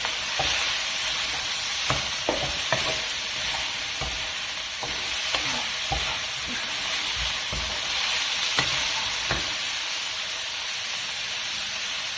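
Pork and tofu stir-frying in a pan, a steady bright sizzle with scattered sharp clinks and scrapes of a utensil against the pan, close and fairly loud throughout, no voices.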